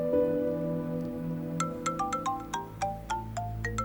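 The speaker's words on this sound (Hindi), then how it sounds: "करीम का फोन है" A phone rings with an incoming call, a bright chiming ringtone of repeated quick tones starting partway through and continuing over a soft background of low sustained music.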